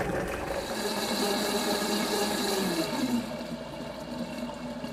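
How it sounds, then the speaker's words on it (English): Blender pureeing a strawberry poppyseed keto dressing, a steady close whirring motor with a liquid churning texture that eases off slightly toward the end. "Just going to blend this until smooth."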